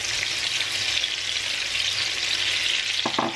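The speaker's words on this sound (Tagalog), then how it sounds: "kaya dapat mauna ang onions kasi matagal yan maluto" Onions fry in a hot pan, the first ingredient cooked before garlic for a tofu and vegetable meal, with a steady close sizzle throughout and a couple of brief stirring clicks near the end.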